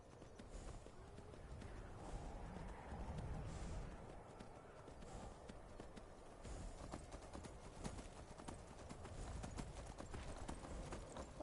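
A horse gallops in the video game Skyrim, with fast drumming hoofbeats that run continuously and fairly close, rising and falling in strength over a broad rumbling background.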